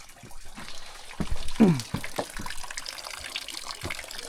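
Mountain spring water along the Triund trek near Dharamshala, Himachal, pours in a steady close rush with splashing, while people talk over it.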